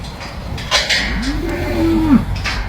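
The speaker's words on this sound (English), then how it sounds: "This whole place is for these cows" Cattle on Fulani herders' grazing land in Anambra State give one drawn-out, rising and falling moo, fairly close, over a faint outdoor background.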